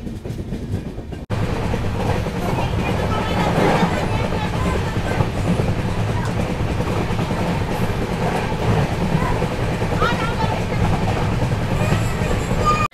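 Rani Chennamma Express sleeper train pulling out of Raybag station, a continuous loud rumble with rhythmic clickety-clack of wheels on rail joints, heard from inside the carriage.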